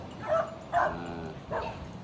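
Dogs bark in three short, close bursts spaced about half a second to a second apart, sharp yips over a low background murmur.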